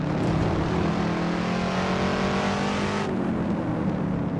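Shelby Cobra 427 S/C engine in Assetto Corsa drones steadily as the car drives, a loud sustained tone with clear harmonics holding pitch before easing off, no talking over it.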